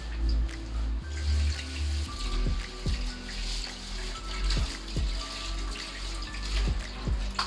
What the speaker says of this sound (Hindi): उसके अंदर मैं तमाम दूध को ऐड कर दूँगी इस तरीके से।